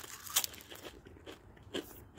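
A few crisp crunches of Lay's cucumber-flavored potato chips being bitten and chewed close up, with short quiet gaps between bites and no talking.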